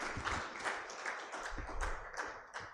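Scattered applause for a speaker at the first African Pastoral Markets Forum, a thin, uneven patter of hands in a hall with a few louder claps mixed in, fairly faint and steady for a few seconds.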